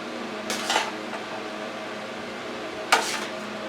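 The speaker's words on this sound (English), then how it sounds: "And now let's put the vegetables from the smaller pan in here." Roasted garlic vegetables get tipped from a small pan into a large one, giving two distinct clattering scrapes of metal on metal, one early and one near the end, with a soft background hum between.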